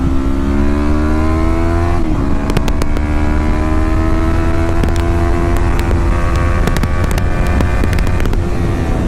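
A 2016 Yamaha R3 motorcycle engine revs up loud and close, its pitch climbing steadily through the gears against a constant roar of wind and road noise.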